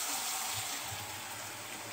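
Raw chicken gizzards rinsed under a running kitchen tap, a steady broad hiss of flowing water with low gurgles, close and continuous without talk.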